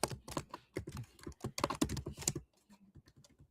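Rapid typing on a computer keyboard, heard up close as a dense run of crisp key clicks. It continues steadily for a couple of seconds, then thins to a few quieter taps.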